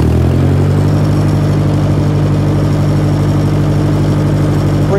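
Ferguson 35 tractor engine running during snow plowing with a loader and front plow, a loud steady mid-low drone with a firm harmonic hum throughout, close by and alone without speech.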